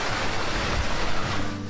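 Mountain stream in Slovenia's Logar Valley, resurfacing after running underground, gives a steady, close broadband rush of flowing water with no let-up and no voices.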